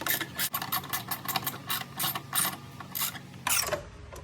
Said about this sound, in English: Now I will finger in the screws.